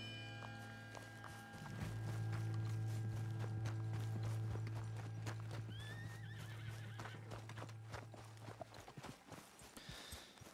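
A horse in Red Dead Redemption 2 whinnies in a long, loud, drawn-out neigh, while hooves clop and gallop, growing more distinct toward the end.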